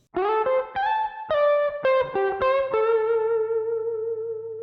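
A distorted electric guitar plays a quick minor pentatonic run of bent, sustained notes, ending on a long ringing note that slowly fades.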